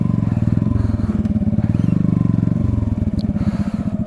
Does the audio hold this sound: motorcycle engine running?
yes